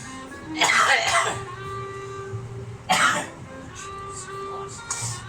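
A man coughs twice in a home kitchen while cooking, first a rough, drawn-out fit, then a shorter, sharper cough about two seconds later, close and fairly loud, with quieter room noise between.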